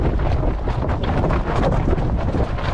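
Strong wind buffets the microphone aboard a lugger under sail, a loud, continuous low roar with gusty fluctuations and rushing air, no voices.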